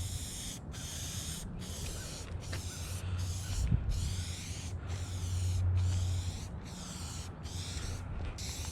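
Repeated bursts of Slick Off-Road wash sprayed onto a vehicle, about a dozen short hissing pumps in a steady rhythm, close and fairly loud over a low background hum.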